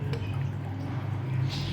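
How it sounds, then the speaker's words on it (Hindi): About half a cup of water pouring steadily into a bowl for a milk drink, a continuous splashing fill that rises slightly at the end, fairly loud and close. "थोड़ा सा पानी और शामिल कर लूँगी"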